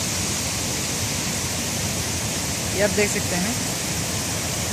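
A constant, dense roar of falling water at Maludah waterfall in Chatra, Jharkhand, fills the scene, with a person briefly speaking in Hindi over it.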